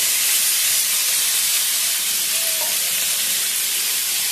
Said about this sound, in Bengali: ডাঁটা আর বেগুনটা দেখুন ভালো মতন ভেজে নিয়েছি